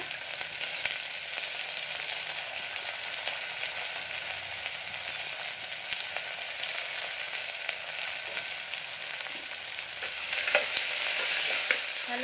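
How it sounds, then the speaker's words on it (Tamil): Medium onions, sliced lengthwise, fry in hot oil in a pan for mushroom biryani, giving a steady, bright sizzle with faint occasional stirring clicks and no talking. "ட்ரை பண்ணிக்கோங்க வெங்காயம் நல்லா கோல்டன் ப்ரௌன் கலர் வர்றதுக்கு"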